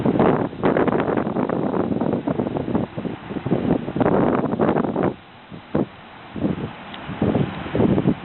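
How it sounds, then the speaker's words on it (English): Strong outdoor wind buffets the microphone in loud, gusty blasts during an exhaust leak test on a turbocharged engine, dropping briefly to a quieter lull before picking up again. "I know it's windy"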